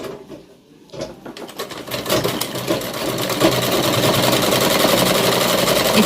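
Sewing machine stitching a straight pant cut from an old saree, a dense steady whir of rapid needle strokes that starts after a brief quiet moment and runs continuously, close and loud.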